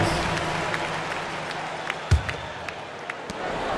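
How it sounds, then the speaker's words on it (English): Steady crowd noise and scattered applause in NBA 2K25 fill the space, with a dull thud partway through. "Let's have a round of applause."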